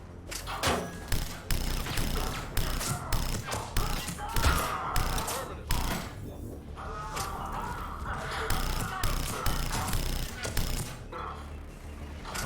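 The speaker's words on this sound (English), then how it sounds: "Okay, watch out for the grenades." Grenade blasts and gunfire in the video game Mass Effect 3, a dense barrage of loud thuds and crashing impacts repeating through a chaotic firefight, with steady combat noise in between.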